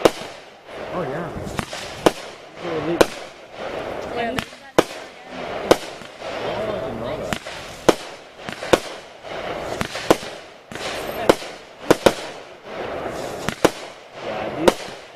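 Consumer fireworks burst in rapid succession during a July fireworks show, loud sharp bangs and crackles roughly every second, with people talking underneath.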